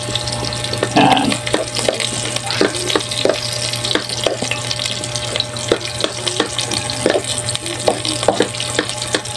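Onion sizzling in a small amount of cooking oil for chicken curry, a steady close crackle with intermittent clinks of a utensil stirring the pan throughout.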